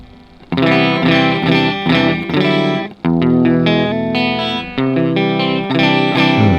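Electric guitar through a Flamma FS06 preamp with a clean, chiming tone playing strummed chords and arpeggios, loud and close with a light chorus shimmer.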